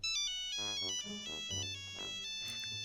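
A Nokia mobile phone taped to a badminton racket plays its ringtone, a bright electronic melody of short repeating notes heard clearly for about three seconds with no talking.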